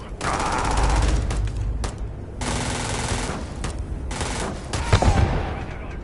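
Rapid automatic gunfire from the video game Starfield rattles in two long loud bursts with a short break between, then a louder thump near the end, with a voice briefly heard under the shooting.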